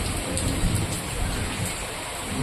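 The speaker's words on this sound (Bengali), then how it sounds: "আর এখন দেখো বৃষ্টি পড়ছে" Steady, dense rain pouring down outdoors at a village home during a fair, a continuous close hiss of drops on surfaces filling the whole moment, with no voices.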